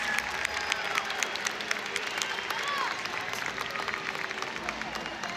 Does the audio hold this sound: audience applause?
yes